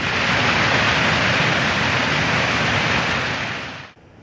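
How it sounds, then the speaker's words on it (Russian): A cascade of waterfalls in a forest, formed by water bursting from a ruptured underground pipeline, roars as a dense, steady rush of water that cuts off abruptly at the end. "В лесном массиве образовался целый каскад водопадов."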